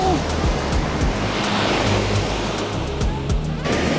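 Ocean surf at Scarborough Beach, Perth, crashes and rushes steadily in a loud, continuous wash of noise, with strong waves breaking close by and no talking.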